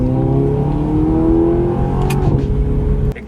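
A 2014 Audi R8 V8 with a dual-clutch gearbox accelerating hard at full throttle, its engine note climbing in rising harmonics, shifting near the end and dropping off abruptly, loud and close with no talk.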